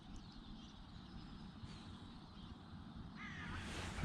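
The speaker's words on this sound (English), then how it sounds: "I can hear a lot of birds among the trees there." Crows caw a few times among the riverside trees along the River Wey, faint and distant over a steady outdoor rush of wind and water.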